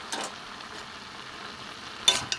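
Bottle gourd greens curry with potato and brinjal being stirred in a pan, a soft low simmer broken by a couple of sharp spoon scrapes near the end, no talking.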